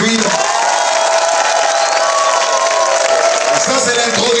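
A church congregation cheers loudly, acclaiming Jesus Christ, with shouts, whoops and clapping forming a steady, roaring wall of crowd noise that carries on for several seconds.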